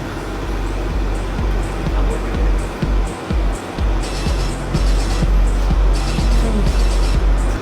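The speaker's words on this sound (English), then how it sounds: "I'm just gonna start the car." A car's engine running steadily while its wheels spin freely in the air, giving a loud broad rushing drone with intermittent clunks and knocks, close to the vehicle.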